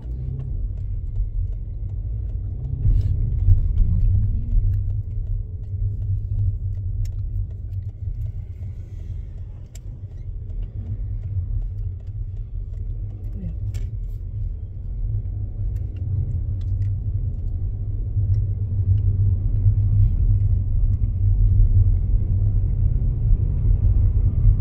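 Steady low engine rumble and road noise fill the cabin of a car during a driving lesson around Aulnay-sous-Bois, continuous and close with no talk over it.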